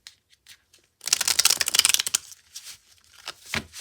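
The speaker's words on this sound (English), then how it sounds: "Get this all shuffled up." A deck of tarot cards is shuffled up close, a dense riffle of rapid flutters lasting about a second, framed by lighter taps and handling sounds before and after.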